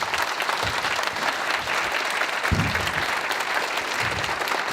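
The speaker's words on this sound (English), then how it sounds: "I'd like you to give these guys a round of applause" Audience applause at a stage hypnotism show during the Confuzzled 2013 furry convention: a dense, steady wash of many hands clapping, loud and sustained for the whole stretch with no talking.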